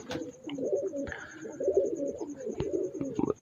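Jaunsra breeder pigeons coo close by in a steady series of soft, throaty calls, with a faint high tone running through the background.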